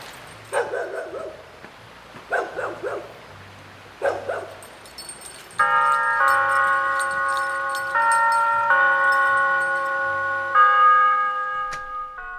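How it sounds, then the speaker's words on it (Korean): A church bell rings in a steady, sustained sequence of clear tones after a few bursts of dog barking, the toll carrying softly through open air in a rural Korean village after heavy rain. "교회 종소리가 은은하게 다목리에 퍼집니다."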